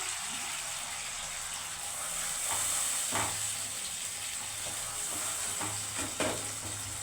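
Bhetki fish frying with mustard paste and turmeric, a soft continuous sizzle with a few light scrapes and taps of a spatula, moderately close and without talk.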